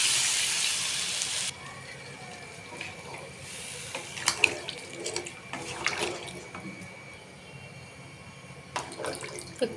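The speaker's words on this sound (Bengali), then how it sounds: "জল দিয়ে দিলাম।" Water gushes into a pot of rohu fish curry with green banana in a short, loud, close pour, followed by scattered clinks and light splashing as the pot settles.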